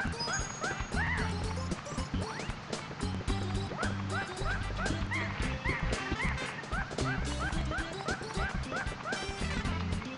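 Monkey on a mountain top in Super Mario 64, a repeated chattering cry over bouncy game music with rhythmic sound effects and a voice speaking over it.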